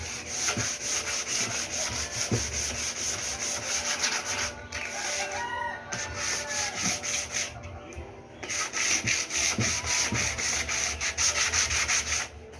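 Sandpaper rubs back and forth across wood in quick, steady rhythmic strokes, close and loud, with brief pauses between runs.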